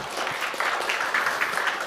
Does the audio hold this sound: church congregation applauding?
yes